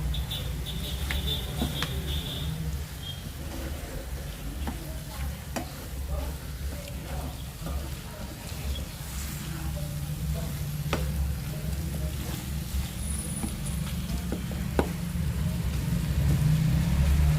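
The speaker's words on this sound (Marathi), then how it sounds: "आता याला छान हलवून घ्यायचंय." Prawn masala gravy sizzling and frying in a pan while being stirred, a steady close crackle with scattered scraping clicks from the spoon, no talking.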